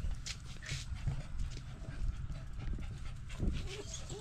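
Dogs pant steadily close by with soft whimpers mixed in, along with light scuffling and paw movement over a busy outdoor background on an early morning.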